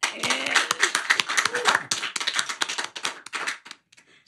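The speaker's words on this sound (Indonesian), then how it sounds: "Tepuk tangan buat Ibu Harsiwi." A studio audience applauds for Ibu Harsiwi, dense close clapping that holds steady and then thins out to a few last claps before fading.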